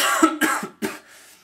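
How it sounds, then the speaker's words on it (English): A person coughs three times in quick succession, close and clear, with brief silence between the bursts and a faint trailing breath at the end. "Apparently I have a cough."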